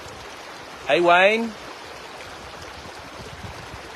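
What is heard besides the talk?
flowing river water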